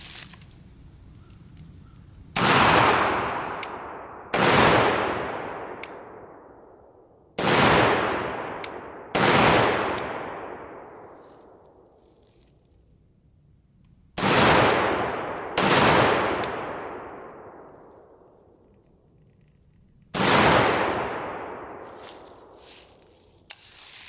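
A Bulgarian AKSU-74 rifle fires seven loud single shots in irregular pairs and singles, each sharp crack trailing into a long echoing decay outdoors, with no talk.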